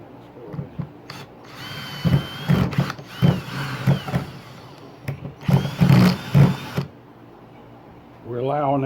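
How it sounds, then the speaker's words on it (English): A power drill whirs in several short bursts while pre-drilling holes for a raised garden bed, stopping and starting with brief pauses between; a voice speaks near the end. "I'm going to pre-drill holes here."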